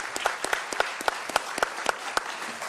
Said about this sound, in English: Let's give a round of applause to these folks.